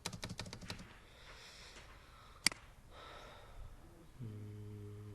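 A computer mouse clicks while someone works in Microsoft Word: a quick run of soft, close clicks at the start, then a single sharper click, and quiet room noise with faint breathing in between.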